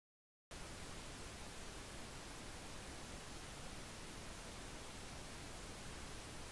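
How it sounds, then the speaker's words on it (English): Continuous pink noise, a steady, full-bodied hiss, begins after a short silence and holds at an even level throughout. "You can create pink noise."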